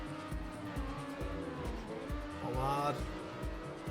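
Car tires skid and squeal in the racing video game TrackMania Nations Forever over a steady engine drone, with the squeal rising near the end. Someone talks over it.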